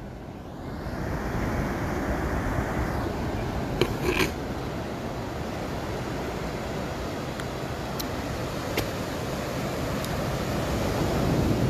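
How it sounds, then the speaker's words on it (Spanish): Ocean waves break along a beach in a continuous, broad rushing wash, fairly near and steady, with a few brief sharp knocks and light wind over the microphone. "Vea cómo quiebran las olas,"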